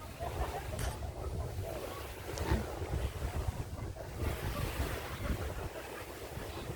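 Steady wind at a beach resort in Calatagan, Batangas buffets the microphone with a continuous rough rumble and hiss, loud and unbroken throughout, with no clear voices.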